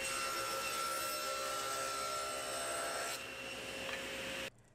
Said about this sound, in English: I can now go over to the table saw and cut them to their final width